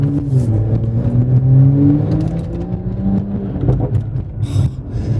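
A rear-wheel drive car on summer tires revs its engine, pitch climbing and falling in a few sweeps with a whirring, rumbling tone, close and loud, no talk.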